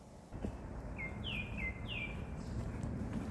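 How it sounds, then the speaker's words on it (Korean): Several short, high bird chirps ring out one after another over a soft, steady outdoor hush in a pine forest. "새소리도 마음은 안정시켜주고요"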